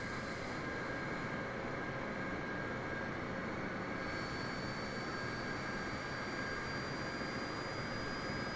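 Boeing 747 jet engines in Microsoft Flight Simulator 2020 make a loud, steady roar with a sustained whine, and a high tone slowly climbs in pitch as the engines spool up during start.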